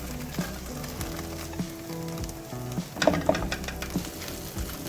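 Garlic frying in a hot pan for Indian-style chicken chow mein (Hakka noodles), a steady close sizzle with brief stirring clatter partway through and no talk.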